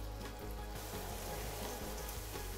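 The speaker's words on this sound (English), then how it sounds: "We'll let it fry." Seafood boil ingredients fry in a pan with a steady, continuous sizzle and crackle, close and fairly quiet, with no talking.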